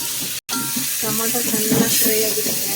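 Tomatoes frying in a pan after ginger-garlic paste, a steady close sizzle with light stirring that runs through the whole moment apart from a brief dropout near the start, with faint voices under it.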